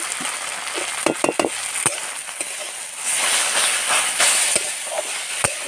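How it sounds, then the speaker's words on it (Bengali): Leafy greens cooking in a pan with salt, a soft sizzling hiss broken by several sharp clanks and scrapes of stirring, close and without talk. "একটু ভালো করে নেড়ে চেড়ে ঢাকা দেবো"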